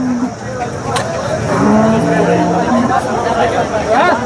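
Cattle low among a busy crowd at a livestock market, with people talking and bustling nearby and a few cow moos rising over the steady background noise.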